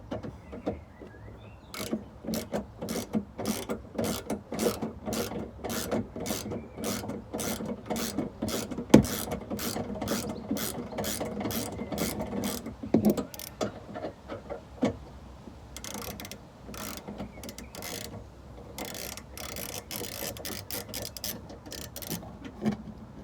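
Torx driver working screws out of the rear wiper trim on a Vauxhall Corsa VXR, giving a long run of rapid, evenly spaced ratcheting clicks close by, with a few pauses and small knocks.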